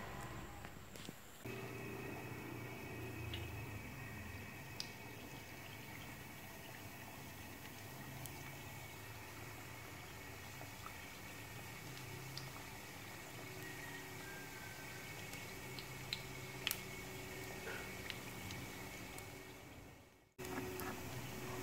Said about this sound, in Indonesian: jadi kita goreng saja Oreo berlapis tapenya